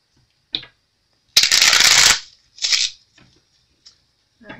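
Tarot cards being shuffled give a loud burst of riffling lasting under a second, then a shorter second flutter and a few faint taps, close up with no talking.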